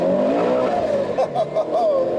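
Turbocharged Subaru BRZ set up for time attack on GT radial tires, its engine accelerating with a rising, wavering whine and revving tone, loud and close throughout.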